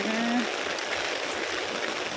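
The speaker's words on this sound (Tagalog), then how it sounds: "nag-ulan na." Steady broadband hiss of rain falling in Mindanao, loud and continuous, with a brief tonal sound near the start.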